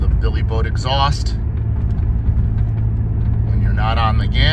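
A 1990 Nissan 300ZX engine rumbles through its Billy Boat exhaust, a deep, steady low drone heard from inside the moving car, with brief voices cutting in over it.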